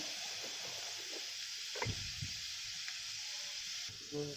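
Garlic frying in a pan for Marathi-style buttermilk kadhi gives a steady, moderate sizzle throughout, with a few soft stirring clicks and scrapes near the middle.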